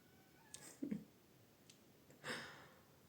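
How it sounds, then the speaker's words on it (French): A cat crying out: a short nasal yowl, then a longer, louder wail a moment later, heard up close against a very quiet room with no talking. "j'ai un cri déchirant du chat et il faut que je m'en occupe"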